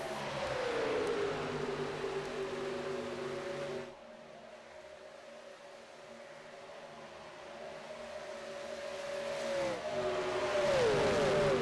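Gen 4 stock cars racing at Daytona in a racing game, engines droning steadily at high revs, easing off briefly to a quieter hum before rising again as more cars sweep in loud and close.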